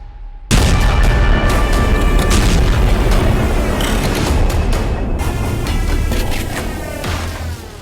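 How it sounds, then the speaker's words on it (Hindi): Loud explosions from an Israeli air strike on Doha, Qatar, burst in suddenly after a brief quiet moment, then a dense, sustained roar of blasts and rumbling continues throughout, with sharp cracks layered over heavy low booming. "अचानक जोरदार धमाके होते हैं।"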